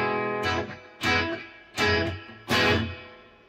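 Electric guitar through a Boss Katana amp with reverb added, recorded directly to a phone: four loud, evenly spaced strummed chords ring out close, each leaving a reverberant tail before the next strike.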